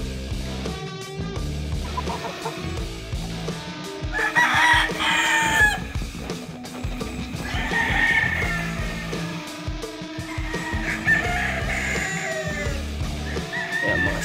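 Roosters and young stag chickens crow repeatedly on a farm in hot weather, several overlapping cock-a-doodle-doo calls at moderate distance, with clucking and rustling between crows.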